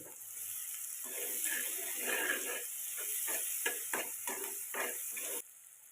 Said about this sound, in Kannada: ಹಲ್ದಿ ಇದಿಷ್ಟು ಹಾಕ್ಕೊಂಡು ಸ್ವಲ್ಪ ಫ್ರೈ ಮಾಡ್ಕೊಳ್ಳೋಣ